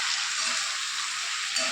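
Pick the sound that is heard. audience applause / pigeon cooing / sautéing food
sautéing food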